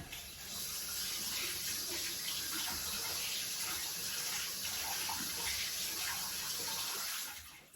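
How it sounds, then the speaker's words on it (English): Water drains steadily from a bathroom sink after cleaning, a continuous gurgling, rushing wash that stays fairly loud and close for several seconds before tapering at the end, with no talking. "Just emptied the sink, as you can probably hear."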